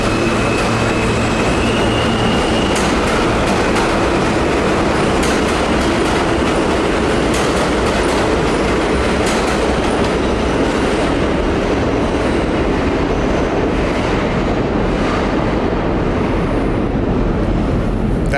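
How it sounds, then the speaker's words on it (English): A Bay Ridge-bound R train on the New York subway passes on the far track, a loud continuous roar of wheels and rails with rhythmic clatter throughout. "That's the subway."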